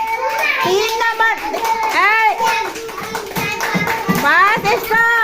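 Children clap together in a classroom, a group of light, sharp claps in loose unison under loud, continuous children's chanting and talking close by.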